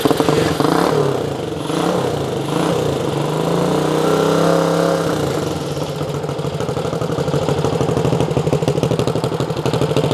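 Honda CT90 motorcycle engine running nearby at a steady idle without revving, a loud, even chugging putter that continues throughout.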